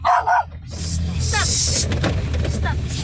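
Dog barking twice sharply up close at the start, followed by a steady background hum with faint squeaks and voices talking.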